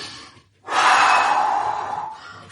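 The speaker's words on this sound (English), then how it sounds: "Fully breathe in." A long, deep inhalation during a low-impact cardio workout, a strong rushing breath starting after a short pause and sustained for nearly two seconds, close and loud with no talking.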